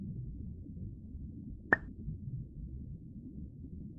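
A single soft plop as a rock drops into the pond in an Elinor Wonders Why pond game, a short watery blip over a faint low background.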